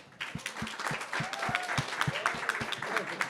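An audience at a festival talk claps in rhythmic unison, loud and near, with a voice carrying over the clapping.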